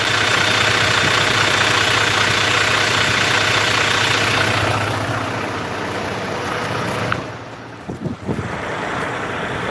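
A truck engine idles after a turbo repair, a steady mid-low rumble that eases down in level partway through, then a few brief knocks and thumps near the end.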